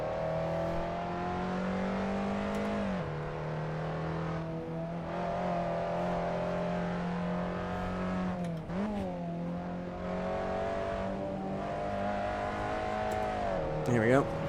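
A race car engine drones steadily through a lap in a racing video game. Its pitch holds high, then drops and climbs again with gear changes and braking, with brief tire noise. A voice talks over the engine throughout.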